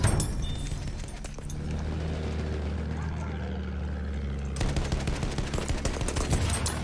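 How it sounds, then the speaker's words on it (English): Infantry gunfire rattles in Battlefield 1, with dense bursts of rifle and machine-gun shots over a steady engine drone, loud and continuous, pausing briefly before heavy firing resumes. "Now they're starting to shoot me with infantry fire."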